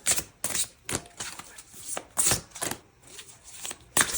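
A deck of tarot cards is shuffled quickly by hand, with short, crisp bursts of riffling and slapping repeated about every half second, close and fairly loud.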